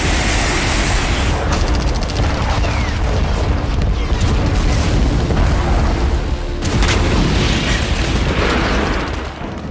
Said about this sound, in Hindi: यूक्रेन के जहरीले बम के हमले से भड़के पुतिन सेना ने यूक्रेन पर KH-31 मिसाइलों से धावा बोला